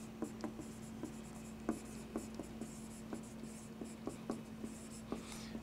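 Quiet, scattered taps and short strokes of writing on a board during a chemistry lesson, irregular marks over a low steady hum with no talking.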